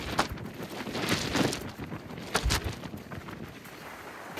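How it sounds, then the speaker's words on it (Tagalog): Strong gusting wind outdoors near a mountain before rain, buffeting the microphone with loud, rough broadband rumbles that surge and ease irregularly throughout. "Lakas ng hangin."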